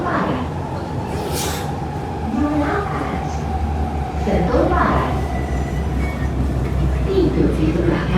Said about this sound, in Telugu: ప్రజెంట్ ట్రైన్ కూడా వెళ్ళిపోతుంది, క్లోజ్ అయిపోతుంది